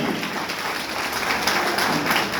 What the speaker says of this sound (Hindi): एक शानदार जोरदार ताली दीजिए उस पैसे के लिए।